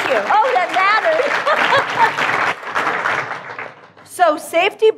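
A small audience claps along in a group clapping session, with speaking voices mixed over the applause and a brief cheer near the end.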